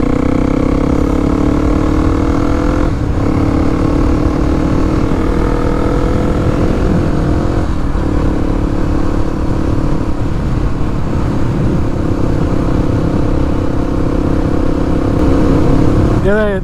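A Kawasaki KLX 300 motorcycle hums steadily while riding back into the city, its engine drone loud and continuous under wind noise throughout.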